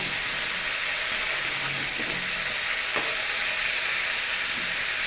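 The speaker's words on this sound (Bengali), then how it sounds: "আচ্ছা এদিকে ভাজা হোক" Young jackfruit curry frying in a pan with a steady, close sizzle and hiss throughout, with faint stirring scrapes now and then and no talk.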